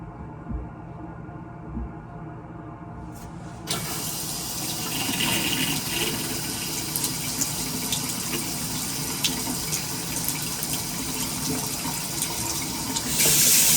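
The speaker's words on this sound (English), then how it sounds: "throttling the supply stops so that less water is coming out" Water starts running from a bathroom lavatory faucet after a few quiet seconds, then flows as a steady, close, continuous rushing stream that swells slightly at the end.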